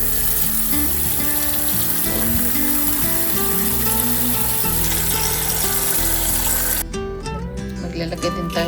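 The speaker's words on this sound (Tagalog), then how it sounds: "And then, ngayon lalagyan na lang natin ng tubig." Water pours into a pot holding carrot, celery and onion leaves, a loud, steady, rushing splash that ends abruptly near the close.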